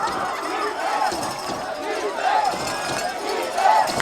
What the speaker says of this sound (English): Kingswood fans with the defense cheer